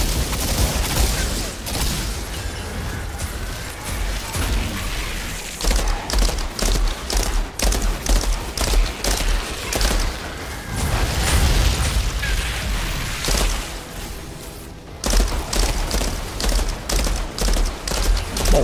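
Rapid bursts of gunfire in the game Outriders Worldslayer crackle almost nonstop, mixed with booming explosive blasts, loud and close, with only brief lulls.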